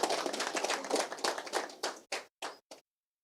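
Applause from a crowd of Taita and Taveta people at a political gathering, a dense burst of clapping that thins into a few separate claps and then stops.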